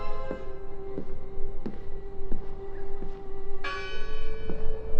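A church bell in the video game Draugen tolls repeatedly at an even pace, about one strike per second, each clang ringing on with long harmonic overtones under a low ambient hum.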